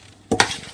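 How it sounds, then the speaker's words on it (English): Grains boil in a decoction mash pot during a Bavarian lager brew day and get stirred, a short close scrape followed by a bubbling sizzle, with no voices. "just go sort of boiling the grains, keep them stirred"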